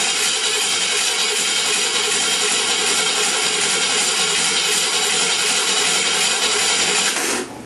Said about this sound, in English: I just want to crank it for you.